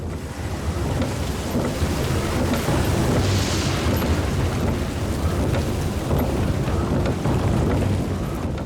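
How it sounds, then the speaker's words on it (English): Heavy monsoon rain pours in a dense, loud, continuous roar, with low thundery rumbling mixed through the wash of noise for the whole stretch. "And then most heavy monsoon rain."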